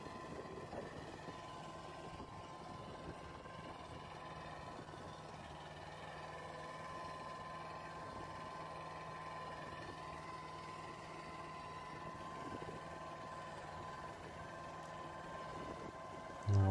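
A tractor engine drones steadily while plowing a field, a low continuous mid-pitched rumble heard faint and at a distance for the whole stretch, with no talk.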